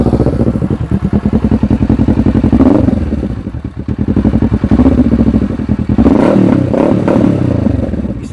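A motorcycle engine idles loudly and close by with a rapid, rough putter, rising in a couple of brief revs.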